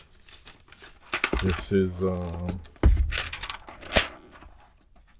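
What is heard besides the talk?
crinkling wax paper while unboxing MacBook Pro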